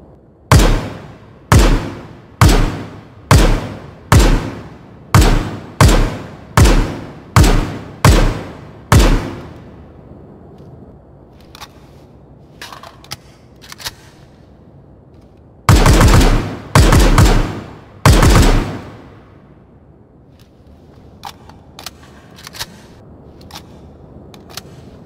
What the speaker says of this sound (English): I love the sound of that sniper rifle. It's got that kick to it.